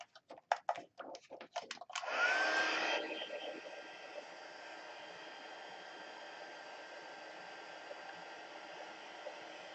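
Heat tool blowing a steady whoosh while melting white embossing powder, starting after a few clicks and taps, loud at first then settling into a constant, moderate hum.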